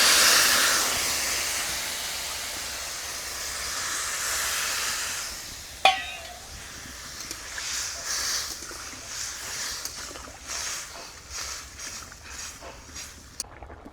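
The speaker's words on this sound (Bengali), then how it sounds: "এবারে পরিমাণ মতো জল দিয়ে দিব।" Water poured into a pan of spices frying for a Bengali fish curry with potato and papaya makes a loud steaming hiss at first, then softer bubbling and sizzling with scattered small pops.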